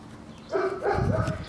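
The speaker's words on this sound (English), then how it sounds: "so there's dogs and stuff barking." A dog barks a few times outdoors, short yips and woofs at moderate distance, with faint background ambience.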